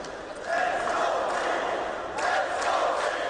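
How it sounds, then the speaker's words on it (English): Esports crowd at a CS:GO match in Krakow swelling into cheering, a broad roar rising at the start and surging again near the end. "now the crowd are coming to life."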